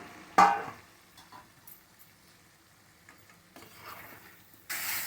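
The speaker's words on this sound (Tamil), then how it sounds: "இந்த டைமில் நம்ம இந்த வாழைக்காவை போட்டு கலரலாம்" Raw plantain is stirred into a frying masala in a pan, with a sharp scrape near the start, then soft, faint stirring and sizzling and a louder burst of sizzle at the end.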